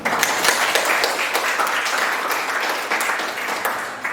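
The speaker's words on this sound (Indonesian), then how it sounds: "Sampai di sini dari dua contoh ini kita beri tepuk tangan" A classroom of students claps in a lively, continuous burst of applause, close and fairly loud, with scattered sharper claps standing out.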